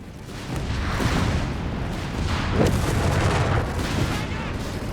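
Dense, continuous battlefield gunfire from the WWII strategy game Company of Heroes 3, with a machine gun position under fire; a steady roar of shots and booms close and loud throughout, with no clear gaps.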